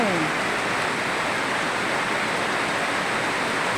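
Steady rain pours down over rice paddies under a dark sky, a dense continuous hiss with no breaks, loud and close throughout.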